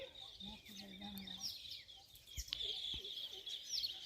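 Sparrows perched on a wire give faint, scattered high chirps over a quiet outdoor background, with other low murmurs and occasional knocks in between.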